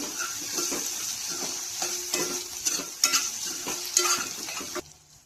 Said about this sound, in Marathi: परत 1-2 मिनिटं फ्राय करून घ्यायचं त्या मिरच्यांना पण तेलामध्ये